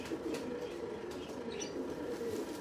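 Pigeons cooing steadily in a low, continuous murmur, with faint wing flutters and a few softer calls mixed in, close and fairly loud without any speech over it.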